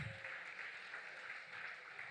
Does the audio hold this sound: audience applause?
yes